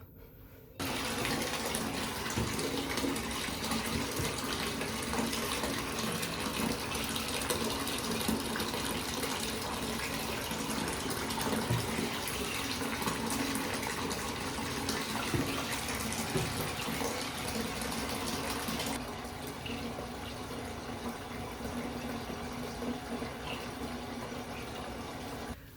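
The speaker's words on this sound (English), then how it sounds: "I'm going to start the bath, add the rock salt and the bubble bath" Bath filling with water from the tap, a continuous loud rushing gush that runs steadily for over twenty seconds, softening slightly toward the end.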